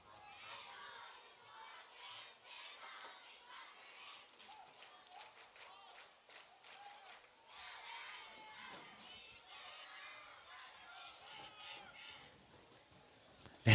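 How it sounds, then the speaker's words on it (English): Youth cheerleaders lead a crowd cheer at a high school football game between Colonel Crawford and East Knox, with many children's voices chanting and shouting together in a steady rhythm, somewhat distant and echoing. "the little cheerleaders are leading a pretty good cheer right now"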